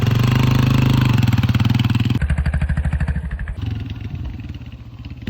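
A dirt bike engine fitted with an oversized rear sprocket revs hard in first gear, a loud close rapid pulsing roar that drops in pitch and then settles into a choppier, lower throb.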